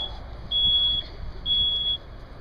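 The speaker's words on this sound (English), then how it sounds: "There goes your smoke detector." A smoke alarm in a dorm room fire simulation sounds two sharp, high-pitched beeps, each about half a second long, loud and steady over low background rumble.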